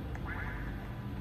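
A duck in the Roblox horror game Sir Scary's Mansion gives a single short quack, heard close over a steady wash of game ambience and background hum.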